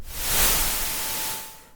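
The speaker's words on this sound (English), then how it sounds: "I don't want this much white noise" A broad synthesized hiss of white noise swells up, holds steady for about a second, then fades out with a faint tone underneath.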